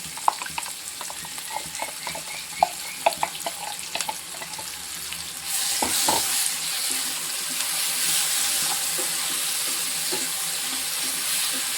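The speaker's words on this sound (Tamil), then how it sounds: "இப்போ தக்காளியை வந்து நம்ம அரைச்சி வச்சுருக்கோம்," Ground tomato tipped into half-cooked onions sautéing in a pan for a Tamil green peas kootu. Light clinks of stirring give way to a loud, steady sizzle that fills the rest of the clip.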